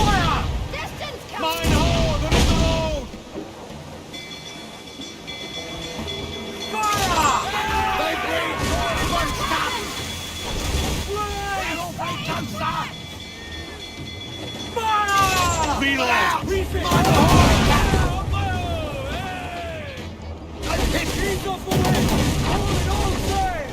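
Mortar fire from a ship in Assassin's Creed Black Flag booms repeatedly amid loud game music and shouting voices, with sharp blasts recurring throughout.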